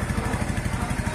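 A Bajaj Pulsar NS160 BS6 motorcycle idles steadily up close, its low engine pulse throbbing in an even, rapid rhythm with no voices over it.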